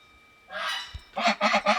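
Goose honks in a short series, a drawn-out call followed by three loud, rhythmic honks close by, with no talking.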